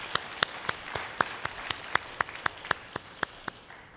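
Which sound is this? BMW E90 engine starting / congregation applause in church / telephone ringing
congregation applause in church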